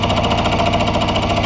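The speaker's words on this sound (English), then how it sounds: "I'm just milling this one right here off." A milling machine cuts into a metal pen holder part, a steady, loud, dense grinding whine with a fast, even chatter that runs without a break.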